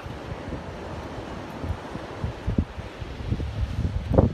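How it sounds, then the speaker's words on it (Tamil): Wind and surf roll in at Vattakottai beach in Kanyakumari, where the sea washes against a seaside fort; a steady broad rush swells into louder wave surges near the end, with no voices. "பார்த்தீங்களா அலை வந்து கோட்டையை முத்தமிடுறது போல இருக்கும்."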